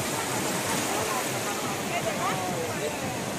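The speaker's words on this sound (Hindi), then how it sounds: "सुबह का वक्त तो पानी एकदम पूरा लहर में है" Morning sea waves at Udaipur beach near Digha: a dense, steady rush of surf filling the air evenly and loudly, with no clear breaks.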